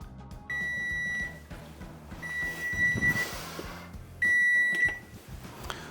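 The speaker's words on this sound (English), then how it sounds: "That was our 20-minute timer." Instant Pot pressure cooker timer beeping during a 20-minute pressure cook for beans, two sustained electronic tones about a second each, separated by a gap, over steady kitchen background noise.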